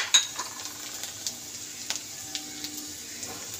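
Spices sizzle in hot fish oil in a pan while a utensil stirs and taps against the metal, giving soft scraping and occasional clinks over a steady hiss.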